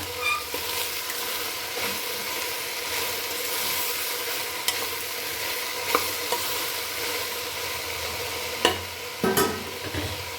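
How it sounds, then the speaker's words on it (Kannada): Vegetables for a curry fry and sizzle in a pan with salt as they are stirred steadily, a continuous close hiss broken by occasional scraping clinks of the spoon, with no talk. "ಉಪ್ಪನ್ನ ಹಾಕಿ ಒಂದು ಚೆನ್ನಾಗಿ ಫ್ರೈ ಮಾಡ್ತೀವಿ"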